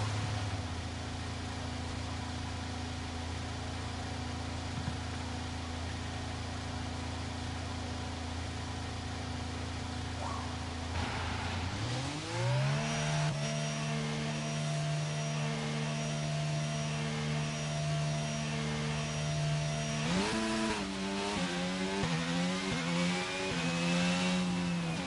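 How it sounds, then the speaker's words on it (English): F1 cars in the F1 2022 game at the USA round hum at a steady idle, then rev up in rising, wavering sweeps twice. The whine is continuous and sits fairly close, with no voices over it. "Okay, engines fired up, we're set."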